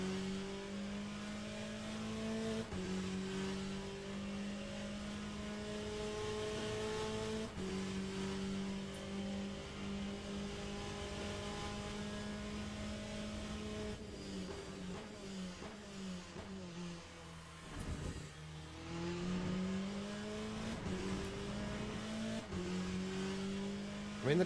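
A GTE race car engine in Le Mans Ultimate at Monza, running light on fuel, drones steadily and loudly throughout, with gear shifts stepping the pitch up and down and a brief lift near the middle.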